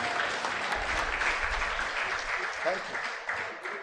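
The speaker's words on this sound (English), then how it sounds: "I wish you had given him a bigger hand clap than that." Audience at a doctors' conference and AGM gives a short round of applause, moderately loud and steady for a few seconds, with some voices mixed in.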